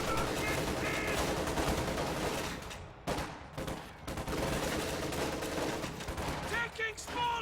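Rapid small-arms gunfire rattles almost nonstop in a World War II-style war video game, with dense overlapping bursts and shots, close and loud, dipping briefly before resuming.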